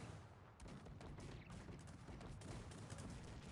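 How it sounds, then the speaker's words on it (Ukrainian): Continuous rumbling barrage of booming multi-barrel cannon fire in a Cossacks 3 battle, blasts overlapping densely into a roaring wall of battle noise, heard from mid-distance without speech. "в нього також гармати, ці гармати, бачиш, є багатоствольні"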